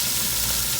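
Tomato paste cooks in a pan with a steady, close, dense sizzling hiss that stays even for a brief moment.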